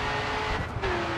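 A race car engine drones at a high, steady pitch in the Grid 2 racing game. The sound is continuous and moderately loud, with a brief dip before the pitch settles slightly lower.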